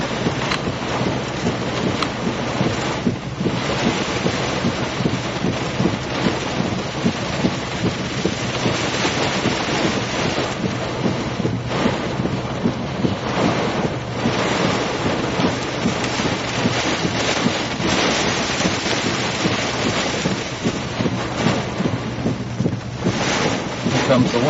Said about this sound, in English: Comes the wind shift.